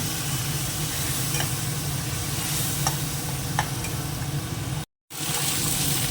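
Spices with chilli powder sizzle in a pan as hot water is added for cooking them down, a continuous close frying hiss with occasional stirring clicks and a brief cut-out near the end.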